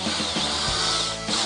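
A power drill driving screws into an RV roof, whining steadily and loudly throughout the short stretch with slight pitch dips, close by and with no voices.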